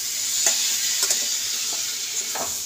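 Taro pieces with garam masala get stirred in a sizzling pan: a constant bright hiss of frying, broken by several scraping strokes of a spoon against the pan at an uneven pace.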